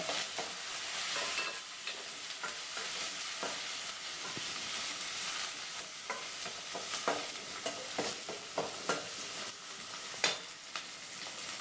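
Small onions sizzle in garlic-flavoured oil for an eggplant tamarind curry, a bright, even frying hiss with scattered soft stirring strokes throughout, close up and without speech.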